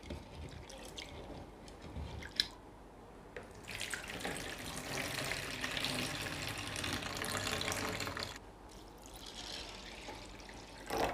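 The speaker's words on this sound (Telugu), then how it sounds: "ఈ విధంగా 1-2 సార్లు నీళ్లు పోసి శుద్ధంగా కడిగి ఆ తర్వాత యాడ్ చేసుకుందాం." Lentils for dal are rinsed under poured water at a kitchen sink, a running tap-like flow that swells and eases over several seconds with trickles and splashes, close and fairly soft.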